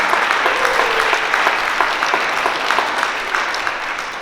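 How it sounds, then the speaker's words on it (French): A crowd at an art exhibition opening claps warmly for two groups of painters, a full, even wash of hand claps that holds steady and eases slightly toward the end. "j'aimerais qu'on donne vraiment une grande main d'applaudissement aux deux groupes qui ont travaillé fort pour produire ces deux"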